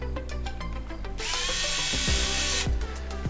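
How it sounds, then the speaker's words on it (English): Power driver running in short bursts, tightening two Allen screws into a cine V-mount battery plate, with a louder sustained whir in the middle; close and alone, no talking. "you are able to now tighten in those 2 Allen screws into the other side"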